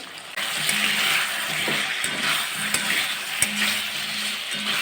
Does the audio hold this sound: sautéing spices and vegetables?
yes